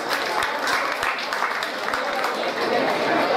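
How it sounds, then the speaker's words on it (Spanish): A crowd at a town's patron saint festival gives a hearty round of applause, with scattered distinct claps and chatter mixed into the steady wash of sound. "Recibámosle con un fuerte aplauso"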